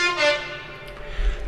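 A distant train horn blast sounds briefly at the start, a bright multi-tone honk that fades, followed by low rumbling.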